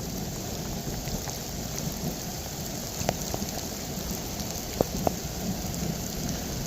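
Steady rain falls on an outdoor disc golf course, a dense, even hiss of drops throughout with a few sharper taps standing out near the end; no one speaks.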